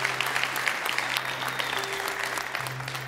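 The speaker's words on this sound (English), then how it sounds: "That's right, clapping." A church congregation claps for a child dedication service, dense steady applause filling the room throughout with a low tonal hum underneath.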